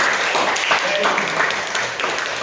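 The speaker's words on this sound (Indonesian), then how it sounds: "Tepuk tangan buat Tuhan Yesus Kristus" A church congregation applauds for Jesus Christ, a dense wash of clapping from a crowd that stays steady for the whole moment, with faint voices mixed in.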